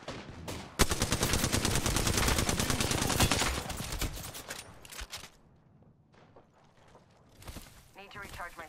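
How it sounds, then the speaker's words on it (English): Rapid automatic gunfire bursts loudly in a shooter video game, a dense rattling stream that cuts off and gives way to scattered shots and quieter game sounds, with a voice briefly talking. "Getting shot at."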